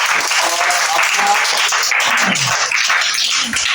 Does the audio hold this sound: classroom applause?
yes